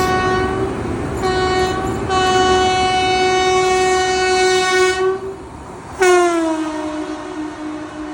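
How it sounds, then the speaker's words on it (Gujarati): Vande Bharat Express train horn sounding loud and close for about five seconds, then a second sharp blast, over the steady roar and rumble of the passing train. "દોસ્તો ફાઇનલી અત્યારે આવી રહી છે વંદે ભારત એક્સપ્રેસ"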